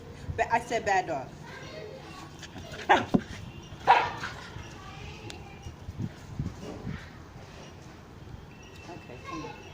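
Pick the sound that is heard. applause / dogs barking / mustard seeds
dogs barking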